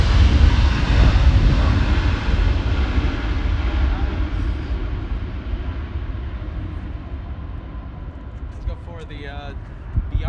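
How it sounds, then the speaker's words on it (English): A KLM airliner on final approach roars loudly and steadily close by, its broad engine rumble slowly fading in pitch as it passes, with faint clicks near the end. "we have a special number KLM on final approach"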